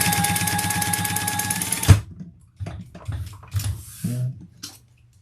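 A sewing machine runs steadily through a topstitching seam at high speed for about two seconds, then stops abruptly, leaving a few soft clicks and handling noises.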